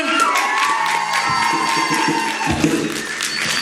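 Crowd cheering and shouting at a patriotic Ukrainian rock concert in Kirovohrad, a steady loud roar of voices with scattered whoops and a few thuds throughout.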